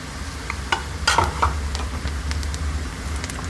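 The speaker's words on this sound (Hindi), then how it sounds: "1 चमचा हम इसमें भर के डालेंगे जीरा।" Red chilies and cumin seeds crackle in hot oil for a dal tempering, a steady close sizzle with a few sharper pops and stirring scrapes against a low hum.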